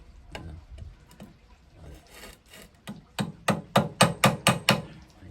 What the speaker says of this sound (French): maintenant je n'aurai qu'un marteau, je vais les tapoter pour que ça s'élargisse un peu des deux côtés